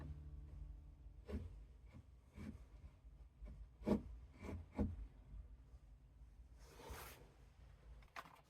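Rasps shaping a wooden hammer handle to fit the head's eye, heard as scattered short scraping strokes, close and fairly quiet, with pauses between passes.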